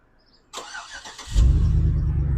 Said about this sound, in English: Push and hold the remote start button.